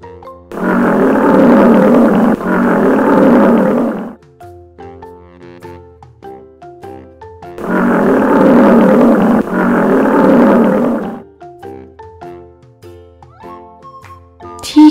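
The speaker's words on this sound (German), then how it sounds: "Löwe." A lion roars in two loud, sustained bursts, each a pair of deep rumbling calls, with gentle tinkling music filling the pauses between them.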